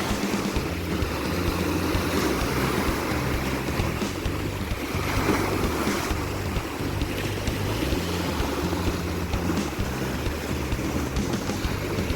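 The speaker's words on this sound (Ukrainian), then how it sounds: "слухати шум моря" Continuous wash of the Black Sea along the Odesa seafront with gusty wind noise, under a low, rumbling, engine-like drone.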